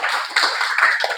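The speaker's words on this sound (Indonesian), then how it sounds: "Tepuk tangan." Brief burst of hands clapping in a classroom during a chemistry lesson on molecular shapes, a short, fairly loud patter of several people applauding that lasts only about a second.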